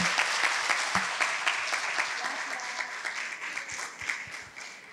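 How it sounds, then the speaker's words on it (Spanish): Audience applause at an academic nursing conference, a steady wash of many hands clapping at moderate volume, tapering slightly over its five seconds with a few louder individual claps standing out. "un aplauso para la maestra Dulce Emilia"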